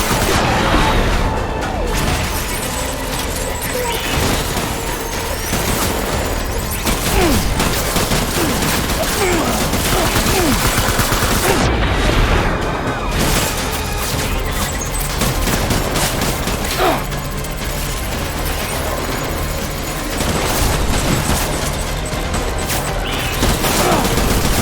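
Constant gunfire fills a scene in the video game Death Stranding, loud dense volleys and rapid shots continuing nearly without pause, with faint voices now and then beneath.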